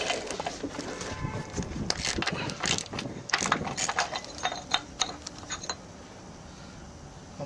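13 millimeter socket ratchet with no extension turning a bolt on the bottom of an engine: a run of quick clicking pawl ratchets in short bursts, close and moderately loud, fading to quiet near the end.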